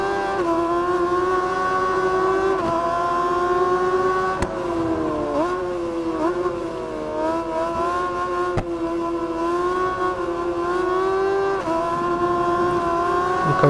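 MV Agusta racing motorcycle engines in the video game RIDE 4 whine and rev continuously, pitch dipping and climbing as gears shift, with brief clicks and a steady buzzing drone throughout.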